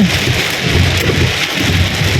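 A thunderstorm over Bangkok brings heavy rain, a loud, unbroken wash of pouring water with a deep low rumble beneath it.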